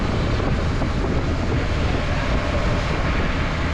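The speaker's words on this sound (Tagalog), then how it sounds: "gawa ng maulan ho talaga at mahangin" Loud, steady roaring wash of typhoon wind and rain buffets close by without pause, dense and unbroken throughout.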